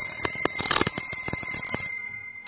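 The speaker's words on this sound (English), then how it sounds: "I pressed that and the alarm turned off." Casio TQ-362 quartz alarm clock ringing in rapid electronic beeping bursts, loud and close, before cutting off abruptly and leaving a quiet background.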